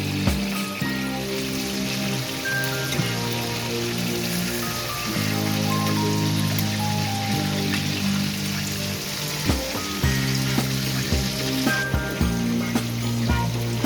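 Palak (spinach) kofta balls frying in hot oil, a steady, dense, close sizzle and crackle that holds on without a pause and with no voices.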